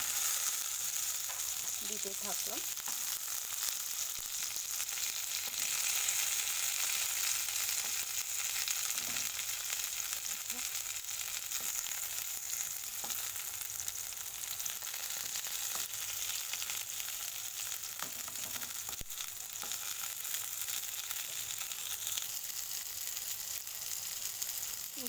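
Whole pointed gourds (potol) frying in hot oil, browning and turning reddish, give a steady, dense sizzle that runs unbroken throughout, with a few soft stirring knocks and a brief spoken phrase near the start.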